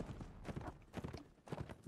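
Horse hooves clip-clop in a steady rhythm in a cavalry line-battle video game, a run of evenly spaced, fairly close hoofbeats that carries on without any talking.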